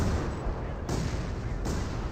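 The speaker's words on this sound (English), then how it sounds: "Mortar barrage being called in." A mortar barrage in Company of Heroes 2, heavy rumbling artillery filling the whole clip with two sharper booming impacts landing about a second apart, dense and moderately loud.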